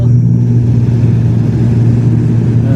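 Airliner jet engines on landing approach into Naga, heard from the cabin as a loud, steady low drone and hum that holds throughout with only slight swells in level.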